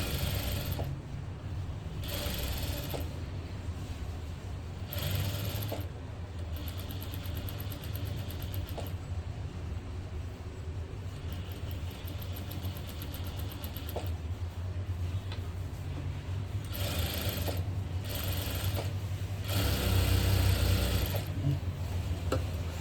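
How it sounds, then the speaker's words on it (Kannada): A sewing machine stitches a blouse in bursts of fast mechanical whirring and clicking, starting and stopping several times over a low steady hum, close by with no talk. "ಇನ್ನೊಂದು ಸ್ಟಿಚ್ ಹಾಕ್ತಾ ಇದ್ದೀನಿ."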